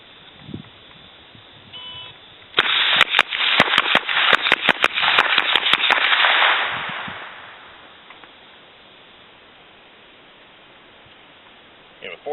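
Rifle shots crack in a rapid string of about a dozen sharp, loud reports during a V-Tac 1-5 shooting drill on a range, followed by quieter ambient noise.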